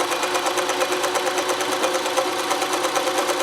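A Consew CN2053R-1A industrial sewing machine running steadily during free motion embroidery, with a size 11 needle and occasional dropped stitches. It gives a fast, even mechanical stitching rhythm, close and continuous throughout with no talking.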